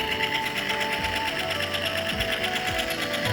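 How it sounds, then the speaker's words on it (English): A small electric motor on a hall-effect sensor test bench spins with a steady, close whirring hum and a faint high tone, holding constant throughout with a few soft knocks underneath. "thankfully we can actually detect the revolution of the motor this time"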